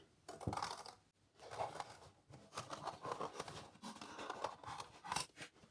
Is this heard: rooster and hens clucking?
no